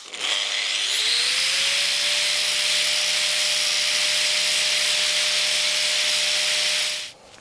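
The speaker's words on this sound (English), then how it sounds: "I'll just hit it with the grinder." An angle grinder bites into the metal edge of a UAZ 469 fuel tank, spinning up with a rising whine and then holding a loud, harsh, continuous grinding roar close by for several seconds before cutting off.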